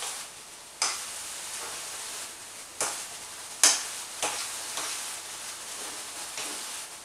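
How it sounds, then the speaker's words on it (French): Farm eggs are stirred into a stuffing in a bowl, giving soft wet mixing and scraping sounds with a few sharper knocks of the utensil, close and fairly quiet with no talking. "on mélange les œufs à la farce"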